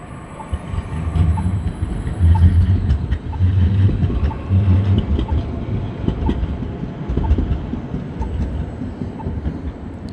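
A tram passes along a city street in Warsaw, a loud low rumbling roll with wheel clatter that swells and stays strong for several seconds, heard close by amid general street traffic noise without talking.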